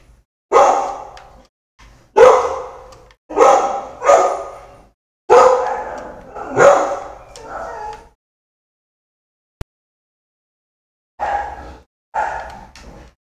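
Dog barking in a ZX Spectrum video game: a run of loud, rough electronic barks in short bursts, a pause with a single click, then two more barks at the end, with no talking.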